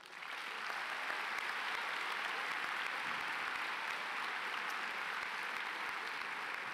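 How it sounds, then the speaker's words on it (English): A large audience at a high school graduation claps for attending alumni, the applause swelling quickly and holding as a steady, dense roar, heard from a distance and fairly faint. "let us give a round of applause to all alumni in attendance"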